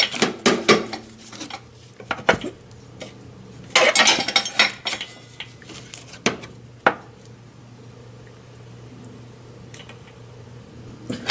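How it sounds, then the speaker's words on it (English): A metal wrench tightens an oxygen sensor on a Ford Freestyle, giving sparse, sharp metallic clinks and clanks in irregular bursts at close range, with quieter stretches between them and no talking. "So now we're going to use our wrench to tighten our O2 sensor."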